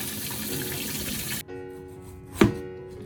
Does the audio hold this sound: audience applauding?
no